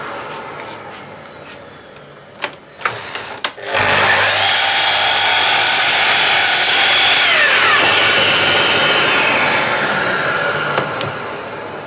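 A power saw cuts wood for a hand screw kit, starting with a few clicks and knocks before the blade spins up into a loud, sustained whining cut that gradually winds down, close by.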